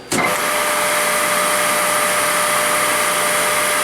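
Eldorado Model M75-1061 twin spindle gun drilling machine starting its cycle, a sharp onset that jumps straight into a loud, steady mechanical whine and hum that continues unbroken.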